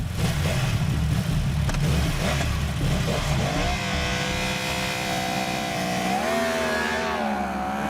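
Car engine revving hard and accelerating away to start a lap in a car-versus-motorcycle comparison, a loud sustained roar that climbs through gear changes and carries on strongly, with no talk over it.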